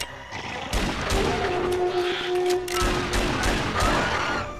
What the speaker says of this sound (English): Gonna try and use my regular pistol in the beginning.